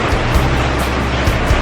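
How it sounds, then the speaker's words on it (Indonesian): Rain falling outdoors with steady trickling water, a dense continuous wash of noise close by with no voices over it. "Kalian dengar gak suara gemericik air guys? Nah, kondisi saat ini kita lagi hujan"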